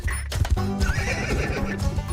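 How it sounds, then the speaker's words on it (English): A horse whinnies loudly and close, its neigh rising and falling over clip-clopping hooves, with no talking. "That poor horse."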